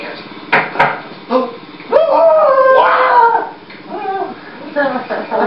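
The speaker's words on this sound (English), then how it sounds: "Please get this dog off me!" A dog barks, yips and howls as a sound effect in a puppet show, close and loud, in short bursts mixed with excited voices.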